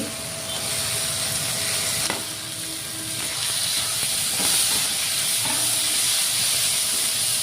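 Chopped tomato sizzles in a pan with spices for an egg curry, a steady, close frying hiss that holds across the whole stretch with a few soft stirring knocks and no talking.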